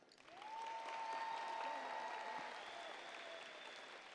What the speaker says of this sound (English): A round of applause for her as well